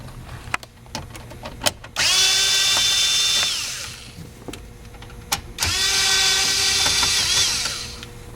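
Power drill or driver running in two sustained bursts of about two seconds each, backing out 7mm screws from the underside of a Buick Century dashboard cluster bezel, with small clicks and handling noises in between.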